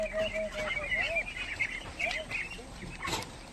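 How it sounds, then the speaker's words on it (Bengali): Month-old ducks on a farm being herded into their house, a flock of quacks and chirpy calls that overlap close by, with a sharp knock near the end. "এখন ওগুলো হাঁসগুলো ঘরে তোলা হবে।"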